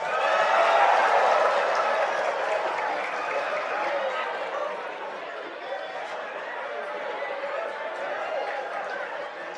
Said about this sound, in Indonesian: kok tepuk tangannya keras banget